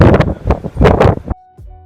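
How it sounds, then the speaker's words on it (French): Strong wind at Dahab harbour in Egypt, loud gusty buffeting against the microphone for over a second, then cutting off to near silence with a faint tone. "il y a énormément de vent"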